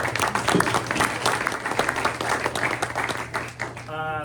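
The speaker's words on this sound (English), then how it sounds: "So let's give them one more big round of applause." A luncheon audience at an SBART press event breaks into a big round of applause, dense clapping from many people throughout, ending as a voice starts speaking over the fading claps.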